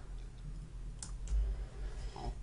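Two quick, crisp computer mouse clicks close together in a quiet room, with faint background hum.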